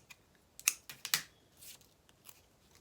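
Handmade Z-fold greeting card having its cardstock trimmed with scissors: a few crisp snips, close and fairly quiet, with no talking.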